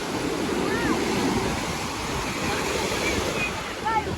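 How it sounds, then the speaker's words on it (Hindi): Sea waves break continuously on Anjuna Beach in Goa, a broad steady wash of surf with wind noise on the microphone and faint bird calls, no voices. "देखिए कैसे समुद्र के मौजे आते हैं।"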